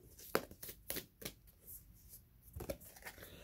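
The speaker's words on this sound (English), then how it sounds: "I'm going to shuffle three more times" A tarot deck is shuffled with faint, quick papery riffles and soft card taps spread in irregular bursts, very quiet and close.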